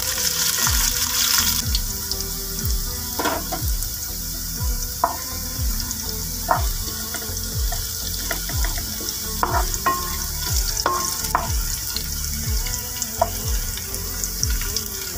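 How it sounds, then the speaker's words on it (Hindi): Chopped onions frying in a pan until golden, a steady close sizzle with occasional stirring scrapes and clinks of the utensil throughout. "इसको मैं अच्छी तरह से गोल्डन कर लूँगी प्याज़ों को।"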